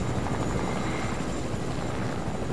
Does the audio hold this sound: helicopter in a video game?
yes